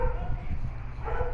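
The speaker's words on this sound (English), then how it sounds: "Why is the dog back in?" A dog barks in quick, close yips and bow-wows, loud over a noisy background for a little over a second.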